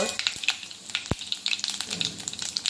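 Hot oil in a kadhai sizzles steadily, with sharp little pops and crackles scattered throughout as mustard seeds and cumin splutter in the tempering.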